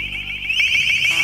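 A long-range acoustic device (LRAD) sounds its alarm tone, a loud, piercing, steady high-pitched warble that runs unbroken through the short burst with no talking.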